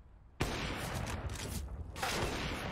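Rapid gunfire from Counter-Strike: Global Offensive during a pro match, a sudden loud burst of shots followed by continued firing and a second burst, no talking.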